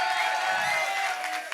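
A lively audience at a release party applauds and cheers with whoops, loud and continuous, while a high sustained tone lingers beneath the crowd.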